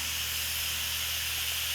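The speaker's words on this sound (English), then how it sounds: "And as soon as we have the steam released, we can release the lid" Steam hissing steadily from a pressure cooker releasing pressure while cooking lentil dahl, a constant broadband rush with a low hum beneath and no voices.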